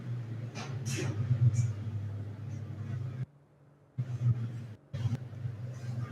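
Racing trucks accelerating on the Jarama circuit during a live race, a deep engine rumble that drops out briefly before surging back with sharp bursts, heard at a distance.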